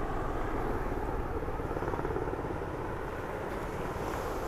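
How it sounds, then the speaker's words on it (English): Helicopters flying over South Beach at the Miami Air & Sea Show, a steady broad rotor-and-engine roar with wind buffeting the microphone, continuous and fairly loud throughout with no voices. "I love the helicopters."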